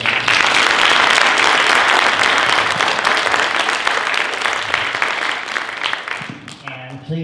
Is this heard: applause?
yes